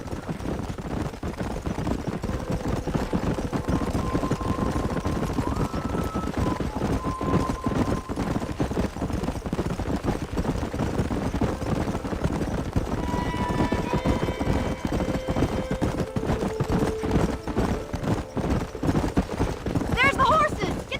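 Horses gallop in the Red Dead Redemption video game, a dense continuous drumming of hooves under steady rumbling, with characters talking over it throughout.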